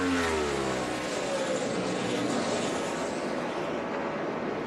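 A NASCAR race car with a badly rattling engine roars past during the 2014 Coca-Cola 600, a loud continuous engine drone that sweeps downward in pitch as it passes and fades into broad track noise.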